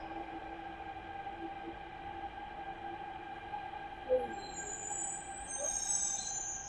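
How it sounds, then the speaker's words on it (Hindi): A Delhi Metro train hums steadily with sustained tonal whines and a low rumble, and a brief clank rises midway before the noise swells slightly toward the end. Nobody speaks. "तो दिल्ली मेट्रो में आपका स्वागत है।"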